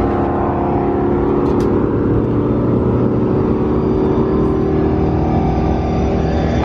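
Kole truck rolling down in neutral, a steady loud engine drone with revving held throughout, close and alone with no talk.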